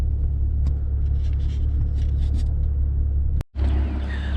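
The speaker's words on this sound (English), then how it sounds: "the music is not playing right now, it's just the car running" A Maserati Ghibli idles with its music switched off, a steady low engine rumble heard from about 15 feet away. Faint clicks and a sharp knock occur near the end, followed by a brief dropout, then the hum resumes.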